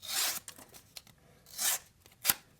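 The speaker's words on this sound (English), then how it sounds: "absolutely destroyed that cardboard right there" A flat-ground 14C steel blade on a Wixco Drax knife slices through single-wall cardboard in several close, harsh rasping strokes, each a short burst separated by quiet gaps.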